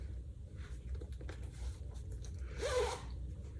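A zipper on a fabric project bag rasps through one quick, bright pull near the end, over a low steady background hum.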